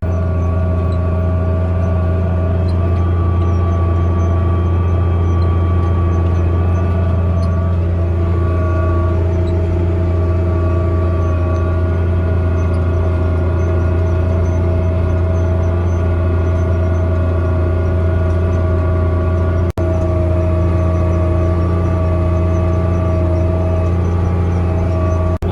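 A tractor pulling a chisel plow through corn stalks for fall tillage, heard as a steady, loud engine drone with a low rumble and unchanging tone, heard from inside the cab, with no talk.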